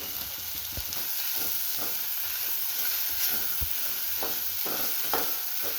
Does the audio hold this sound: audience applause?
no